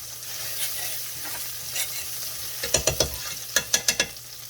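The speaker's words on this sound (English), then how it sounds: "So I'm just gonna add maybe a tablespoon of butter to this. We're just gonna stir that in." A tablespoon of butter is stirred into a seafood pasta sauce, giving a soft steady sizzle, then a quick run of close spoon scrapes and taps against the pan near the end, no voices.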